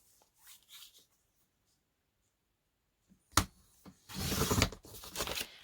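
Card stock being cut down on a craft cutting board: a single sharp cut, then a burst of rough scraping and sliding, fairly close and moderately loud, with faint rustling before it.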